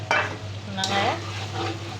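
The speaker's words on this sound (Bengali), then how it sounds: "এখন একদম শুকায় পুরো ভাজা ভাজা করে ফেলবো" Cow tripe stir-fried dry in a pan, with a close, steady sizzle and spatula scrapes against the metal over a constant low hum.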